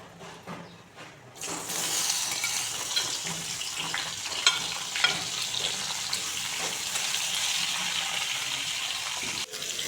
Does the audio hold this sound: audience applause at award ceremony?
no